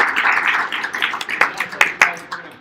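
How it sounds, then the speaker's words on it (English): Scattered live-event audience applause, a few close claps thinning out into sparse individual hand claps over a couple of seconds. "Give everybody a round of applause."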